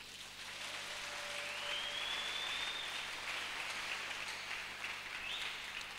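A church congregation applauds together, a steady wash of clapping held at an even level for several seconds, with no talking over it.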